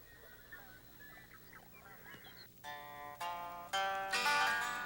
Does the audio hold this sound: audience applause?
no